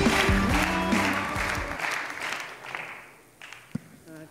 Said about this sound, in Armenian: Ծափարենք, ահա Տիկին Սոնյան, բարձր ծափարությունների ներքո